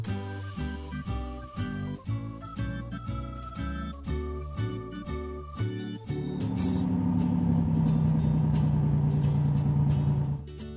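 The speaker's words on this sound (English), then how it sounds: "I can use this orange-coloured forklift truck to help me." An orange toy forklift truck's playful engine sound rises and falls in a looping, bouncy electronic pattern while loading blocks, then shifts into a steadier sustained drone, loud and close with no talk.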